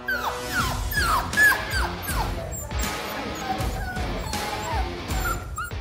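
Puppies play indoors, yipping, whimpering and barking in quick, overlapping bursts with scuffling and thumps, close and fairly loud.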